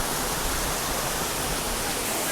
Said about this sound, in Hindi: बीच में ये वाटरफॉल है